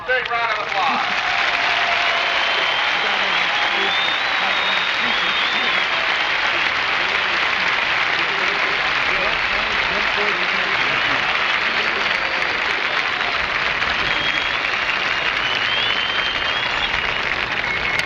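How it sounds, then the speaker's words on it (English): Dense, sustained crowd applause at a 1970s DCI drum corps awards ceremony in a stadium, a loud unbroken wash of clapping filling the whole stretch with faint voices mixed in. "Let's give all a big round of applause."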